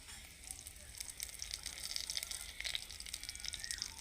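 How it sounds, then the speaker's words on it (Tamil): Mustard seeds and curry leaves crackling and spitting in hot oil in a pan, a steady close, quiet sizzle with scattered tiny pops throughout. "கடுகு பொரிஞ்சிச்சுங்க கருவேப்பில் தலை போடலாம் அழகாக போட்டு பண்ணிக்கலாம்"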